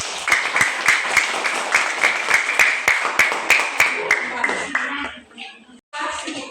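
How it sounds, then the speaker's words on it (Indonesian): Classroom clapping for a student group, sharp rhythmic claps in a fast steady beat for about five seconds before fading out. A voice and an adult's voice come through as it ends. "kita tepuk tangan untuk kelompok kinestetik"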